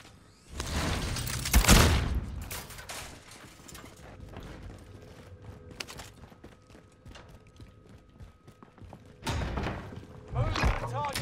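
A grenade detonates in Call of Duty Warzone with a loud close boom and rumbling aftermath, followed by quieter mechanical clatter and a second burst of blasts near the end, with brief voices in between.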